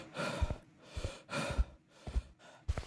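Heavy, ragged breathing from a character in a haunted-school horror video game featuring a nun, with five or six slow, rasping breath pulses at an even rhythm, fairly quiet and close, with no talking over it.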